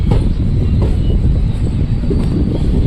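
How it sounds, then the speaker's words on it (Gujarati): A train pulls slowly away from Junagadh station, a loud, close, steady low rumble and rattle from the carriages with no voices. "ટ્રેન હવે ધીમે ધીમે ઉપડી ગઈ છે"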